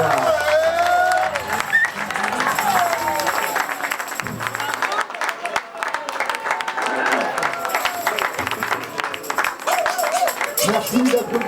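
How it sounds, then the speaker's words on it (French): An audience claps steadily at an outdoor street singers' festival in Quintin, sustained clatter with some cheering and a voice talking over it. "Merci d'applaudir."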